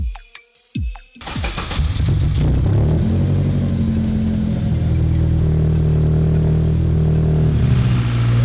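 A K24-swapped Honda S2000 engine at its first start: a few quiet clicks, then the engine cranks and fires, settling into a loud, steady idle with a droning hum that carries on alone.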